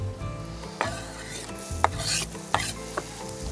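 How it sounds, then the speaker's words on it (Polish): Finely chopped onion tipped into a hot pan for a Russian pierogi filling, sizzling steadily while a utensil scrapes and clacks against the pan in several sharp strokes, close and alone. "I o, teraz dociepuję cebulka."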